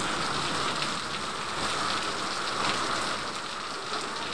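Steady rain falls continuously, a dense even hiss of drops on surfaces outdoors, close and moderately loud throughout with no voices.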